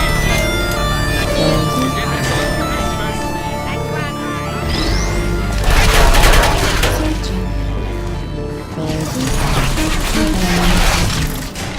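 Automated turrets in Portal 2 fire in rapid bullet bursts over loud game music and mechanical clatter, with crashing impacts in the middle and again toward the end.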